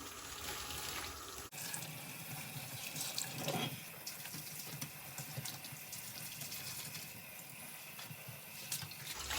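Water runs steadily from a kitchen tap over a white granite countertop sink as items are washed beneath it, a continuous close splashing stream with no voices.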